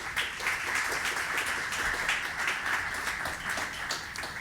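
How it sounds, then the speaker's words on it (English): An audience at a Data & Ethics talk event breaks into steady applause, many hands clapping in a dense, continuous patter at moderate volume for several seconds. "thank you for the really spontaneous applause"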